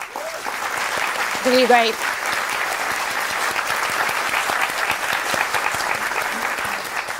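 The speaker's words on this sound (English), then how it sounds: "let's give a round of applause for our 12 Asia Oceania drivers" A large crowd applauds the twelve Asia Oceania drivers at a GT World Series motorsport event in Tokyo, a steady dense roar of clapping throughout, with a host's voice briefly speaking over it.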